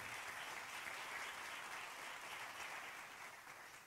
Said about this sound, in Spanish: dale fuerte el aplauso al Rey de Reyes.